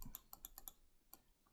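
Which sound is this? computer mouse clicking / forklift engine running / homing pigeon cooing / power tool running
computer mouse clicking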